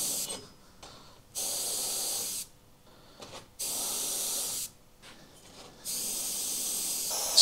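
Airbrush spraying paint onto a skeleton hand, several hissing bursts of about a second each, separated by short quiet gaps, close and fairly loud.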